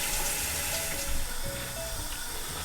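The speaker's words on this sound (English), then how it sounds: "Rinse this off." Tap water running steadily into a kitchen sink while a spring onion is rinsed under it, a close, continuous splashing rush with no talk.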